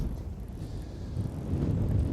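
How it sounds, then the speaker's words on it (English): Strong wind buffets the microphone on a seaside fishing pier, a steady low roar of gusts that swells louder toward the end, with no talking. "As you can see, it's very, very windy"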